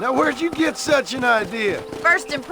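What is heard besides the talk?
No everyday noise stands out behind the speech.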